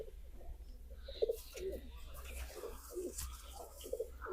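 Pigeons coo softly in repeated low, rolling calls at close range, with a faint background hum and no clear speech.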